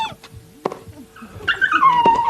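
A dog whimpers and yips in high, wavering cries, rising into a sustained whine near the end, close and fairly loud against a quiet indoor background.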